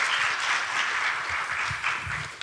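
Applause at the opening ceremony of a smart mobility seminar: an audience clapping in a continuous dense patter, moderately loud and steady, with no talking over it.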